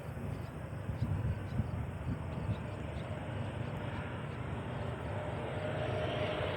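A JetBlue Airways airliner inbound from Boston at Cleveland Hopkins International Airport, heard as a faint, distant engine drone that builds slowly and steadily over several seconds.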